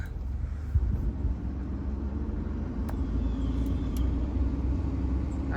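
A car with a bad CV axle turning right rolls along with a constant low rumble and faint grinding, plus a few faint ticks over the road noise; no voices.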